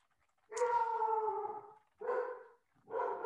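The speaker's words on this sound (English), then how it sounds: "my dog is barking in the background" A dog gives three drawn-out, howling barks close by, the first the longest, with short silent gaps between them and a quiet room around them.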